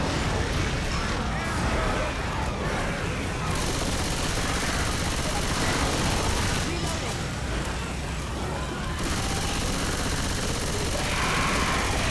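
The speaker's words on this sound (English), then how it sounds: "Stop shooting me!" Dense, continuous gunfire rattles through a Counter-Strike: Global Offensive / Left 4 Dead 2 match, loud and near with rapid bursts layered over game noise for the whole stretch.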